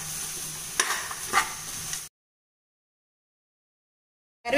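Rice mixture for bottle gourd rice sautéing in a hot pan, a short burst of sizzling with a couple of stirring scrapes, close and fairly quiet, cutting off into silence after about two seconds.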